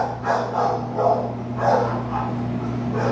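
A dog barks at home in several short, loud bursts with pauses between them over a steady low hum, and no one speaks.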